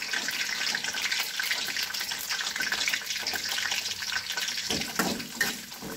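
Garlic sizzles in hot oil, with a little water in the pan, while a chilli sambal is cooked; a steady, hissing crackle fills the clip close by, with a few sharper pops near the end.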